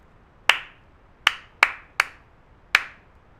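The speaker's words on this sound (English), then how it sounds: "I'm just going to clap a sound of some series of claps" Five crisp, close hand claps from a teacher form an uneven rhythm, two spaced apart, then a quicker pair and a final clap, each sharp with a short room decay and quiet between.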